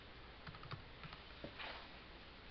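Sparse keystrokes on a computer keyboard while code is written for a simple client-server program, a handful of quiet, irregular clicks close by over a faint steady background.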